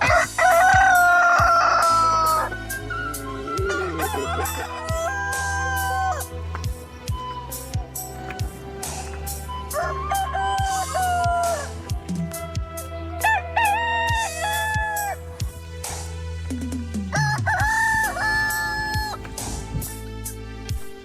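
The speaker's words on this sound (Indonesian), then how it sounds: "dari tadi kita dibarengi dengan suara ayam berkokok" Roosters crow repeatedly and loudly nearby in a quiet village, several long calls overlapping, with clucking and other farmyard noise continuing underneath.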